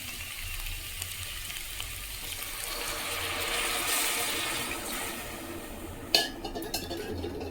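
Water is poured into a pan of frying brinjal pieces seasoned with salt and chili, making a steady sizzling rush that swells and fades. A clatter near the end follows.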